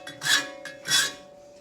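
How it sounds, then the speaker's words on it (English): Two separate rasping hand-file strokes work across the edge of a folding shovel blade, each stroke a broad scrape with brief quiet between, close up and fairly soft. "so I'm just trying to file that down"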